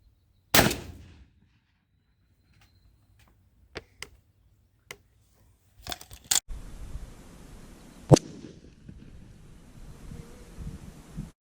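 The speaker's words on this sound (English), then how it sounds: "last and probably the actual least here at 30 yards is going to be the New England Arms 3-inch 410 shooting 6-shot" New England Arms 3-inch .410 shotgun firing 6-shot at an outdoor pattern range, one loud sharp blast early followed by faint clicks, handling noises, another sharp report and wind rumble.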